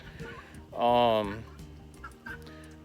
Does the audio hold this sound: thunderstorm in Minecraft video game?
no